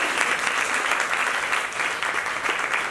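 Dense, steady audience applause fills a gathering hall as the crowd claps for itself, a continuous close wash of many hands for the full three seconds with no talking.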